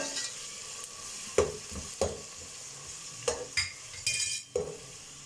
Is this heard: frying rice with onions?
yes